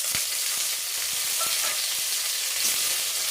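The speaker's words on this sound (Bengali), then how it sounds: "টমেটোটা দিয়েও আমি একটু ভেজে নেব" Chopped tomato frying with onion and split green chillies in a pan for a chickpea curry, a steady close sizzle with a few soft stirring clicks and no talk.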